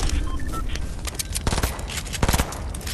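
Automatic gunfire in a Fortnite Battle Royale match, several quick bursts of shots, some near and loud, others more distant, with brief gaps between volleys.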